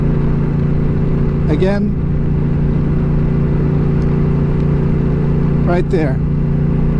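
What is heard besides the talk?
Honda Rebel 1100 motorcycle accelerating to 60 mph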